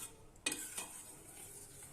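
Milk curdled with vinegar into chhena is stirred in a pot, with one sharp spoon knock against the metal followed by a soft swishing scrape and a faint background hiss, close and fairly quiet, no voices.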